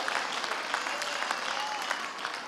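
A church congregation claps during a sermon, dense steady applause filling the room, fairly close, with faint voices mixed in.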